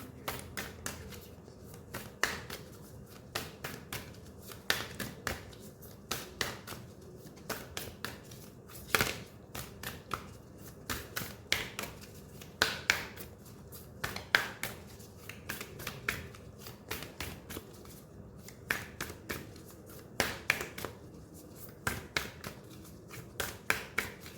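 Tarot cards being handled and drawn from a deck: a steady run of crisp, close card snaps, flicks and slides repeating irregularly throughout, fairly quiet, with no voice.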